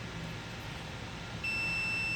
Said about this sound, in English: We get a beep